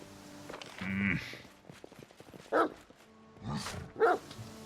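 A dog in the video game Pathfinder: Kingmaker gives a few short, sharp barks spaced apart amid quiet game ambience and soft footsteps, moderately close.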